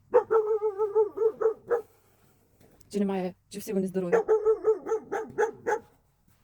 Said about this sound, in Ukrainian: Чую, хтось гарчить.